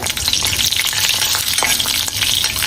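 Garlic and small onions frying with cumin in a pan for Kerala sadhya sambar, giving a loud, steady, dense sizzle with a few stirring scrapes throughout.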